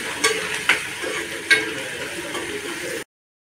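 Asafoetida goes into a hot pan for dal dhodka bhaji, setting off a steady frying sizzle with a few sharp clinks of a utensil against the metal before the sound cuts to silence.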